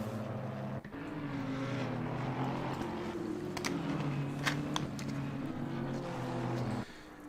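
Several GT race cars rumbling around Monza on a formation lap in Assetto Corsa Competizione, layered low engine drones holding steady with a few sharp higher bursts, starting and stopping abruptly, no talk.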